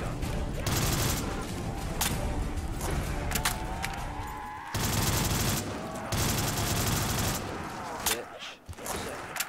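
Full-auto gunfire rattles on without a break through a zombies map in a video game, loud and dense, with voices talking over the shooting.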